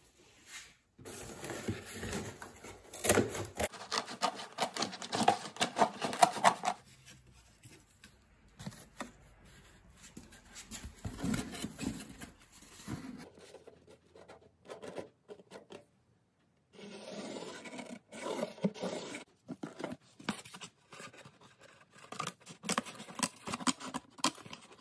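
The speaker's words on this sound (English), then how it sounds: "I wanna square up and cut down this cardboard a little bit" Cardboard is cut to square it up for a template in a workshop making Jeep Willys CJ2A side steps: close, quiet bursts of scraping and rasping strokes come in several rough stretches separated by pauses.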